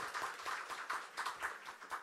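A church congregation gives the choir a round of applause during a Sunday Christmas-season service, with faint, distant claps in loose rhythmic bursts.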